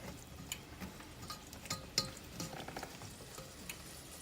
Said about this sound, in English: garlic in here and let that simmer